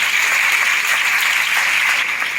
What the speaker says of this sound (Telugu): మనందరి తరఫున కూడా చప్పట్ల ద్వారా ప్రత్యేకత తెలియజేస్తారు